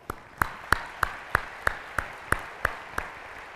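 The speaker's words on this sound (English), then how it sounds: "How about one more round of applause for that group?" Slow, evenly spaced claps ring out about three times per second at a community report event, sounding like one or a few people clapping in a sparse, steady rhythm rather than a full crowd.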